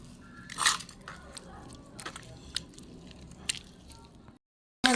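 Pulpy pea pod paste pressed and squeezed through a strainer, giving soft wet squishes with a few sharp squelching bursts over a steady low rustle, close up, ending in a brief silence.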